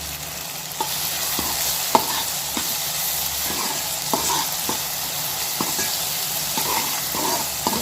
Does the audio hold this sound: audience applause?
no